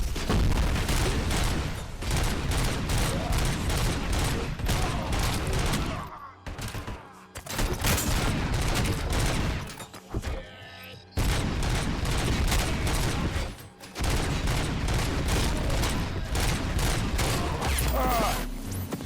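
Nearly continuous, loud gunfire in the RoboCop: Rogue City game, rapid automatic bursts with brief gaps and some booming impacts, heard alone without talk.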